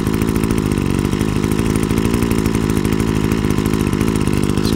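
A Sunseeker MFT261 26cc pole saw engine runs loud and close, a steady buzzing two-stroke drone that holds near-constant speed with slight throttle wavering and no talk.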